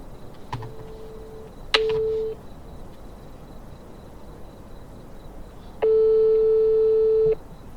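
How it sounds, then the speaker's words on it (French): A busy signal on an unanswered phone call: a few steady electronic tones, a short one followed by a longer sustained beep, separated by near silence and light room hiss. "Attendez, je vais l'appeler."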